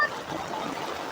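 Canal water rushes through a breach that has washed away trees and soil, making a steady mid-level flowing wash, close and continuous, with no voices.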